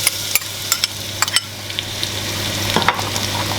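Garlic and ginger paste frying with onions crackles and sizzles steadily in a pan, with scattered sharp pops and stirring scrapes up close; no voices.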